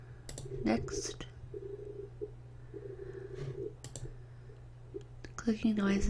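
Soft clicking noises come up close during a quiet ASMR live stream, scattered sharp clicks over a faint hum, with sparse low speech-like sounds.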